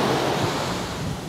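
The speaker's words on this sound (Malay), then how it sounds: "Tapi hari ni memang ombak kuat." Strong ocean waves crash and roar continuously on a beach, a loud dense wash of surf mixed with wind.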